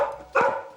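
One short, loud bark from a dog indoors, reacting to someone tampering with a car outside, cutting sharply through a quiet background and tailing off quickly.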